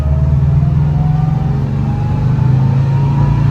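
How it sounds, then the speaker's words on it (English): A 1959 Volkswagen Bus's air-cooled engine hums and revs steadily from close by, its pitch climbing gradually as it pulls in first gear. "I love the sound of the first gear."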